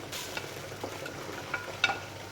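Corn kernels sizzling in melted butter in a pan for a pasta garnish, a soft, faint crackle with occasional light pops and stirring scrapes.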